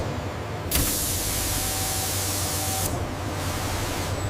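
A steady, loud broadband hiss bursts on from controlled cryogenic cooling vents in a bush viper processing unit, holding for about two seconds over a low machine hum before dropping back.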